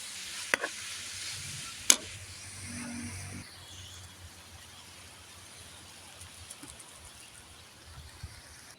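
Meat for Filipino pork adobo frying in a pan, a steady soft sizzle with a couple of sharp clinks of a utensil against the pan early on, then continuing quietly without talk.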